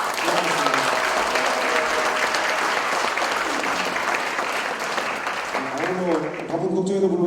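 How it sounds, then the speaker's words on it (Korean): A talk concert audience gives sustained applause, dense steady clapping filling the room for several seconds before thinning out as a voice begins to speak. "박수 한번 보내주시면 고맙습니다."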